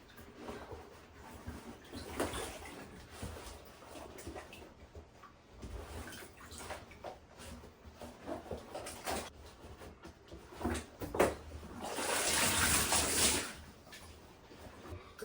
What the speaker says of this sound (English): I soak it in water. Make sure there's water in there.